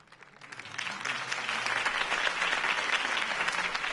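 Crowd applause at a political campaign rally for Harvey Dent swells in over the first half-second, then holds as a thick, sustained roar of many hands clapping.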